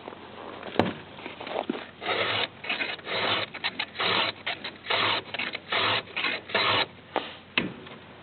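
Steady rasping strokes of a round file in a roller guide across chainsaw chain teeth, close and dry, repeating in a regular back-and-forth rhythm with brief pauses between passes.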